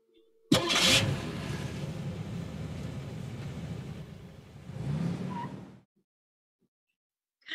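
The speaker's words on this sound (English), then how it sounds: "Yes, Brooke, you can start the car now." A car engine cranks and catches, then runs steadily for several seconds, briefly revs louder, and shuts off into silence.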